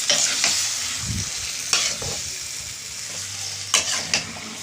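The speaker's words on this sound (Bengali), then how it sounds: "এবার ম্যারিনেট করা মাংসটা দিয়ে দিলাম" Marinated tender goat meat frying in a hot pan with spices, stirred repeatedly: a constant loud sizzle broken by several scraping spoon strokes, close and without talk.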